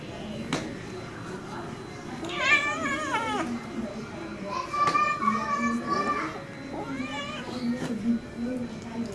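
A cat yowls and meows repeatedly while being bathed, drawn-out distressed cries rising and falling close by, with people talking throughout.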